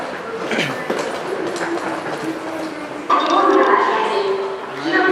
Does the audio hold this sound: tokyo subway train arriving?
yes